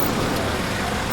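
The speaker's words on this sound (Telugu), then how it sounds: "కారు వచ్చింది." A car pulls up on a busy road, its engine hum blending into a continuous wash of nearby traffic noise that stays steady and fairly loud throughout, with no voices.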